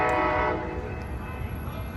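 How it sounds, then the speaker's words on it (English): An Amtrak Capitol Corridor train, number 733, street-running through Jack London Square in Oakland, blasts its horn in one loud, chord-like burst, then its rumbling passage carries on as the horn fades. "here comes Amtrak Capital Corridor train 733"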